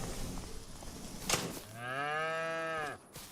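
A single long cow moo from a farming video game sounds out clearly and close, following some low background noise and a brief sharp click.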